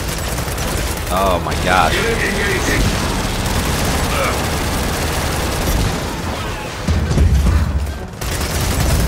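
Mounted turret fire in the video game Gears of War 4, a continuous loud roar of rapid shots and blasts with mechanical noise, under shouted voices.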